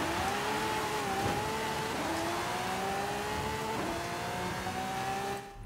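A drag car in Forza Horizon 5 holds a loud, steady engine drone near the listener, its pitch climbing through several gear changes with brief dips at each shift, then cutting off abruptly at the end.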